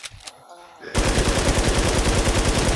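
Rapid automatic gunfire in the online survival shooter Infestation, bursting in loud and close after a quiet moment and continuing as a dense, steady stream of shots.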